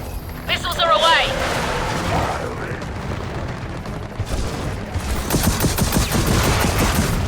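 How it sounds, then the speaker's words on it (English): Missile airstrike explosions and gunfire in Gears of War 4, with a loud rolling barrage of booms and rapid shots building through the clip. Voices talk over the noise. "Call it an airstrike! Missiles are away!"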